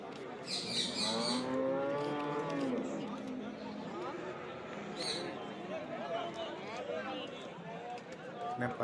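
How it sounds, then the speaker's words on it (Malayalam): Loud buffalo mooing and lowing at a cattle market stretches over busy outdoor crowd chatter, with several voices talking nearby. "വലിയ വലിയ എരുമകളാണ് ഈ ഭാഗത്ത് നിൽക്കുന്നത്"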